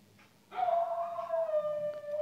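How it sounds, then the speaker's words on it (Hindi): A dog lets out a single long, drawn-out howl close by, holding a steady wavering pitch for nearly two seconds. "फिर भौंकने लग गया कुत्ता"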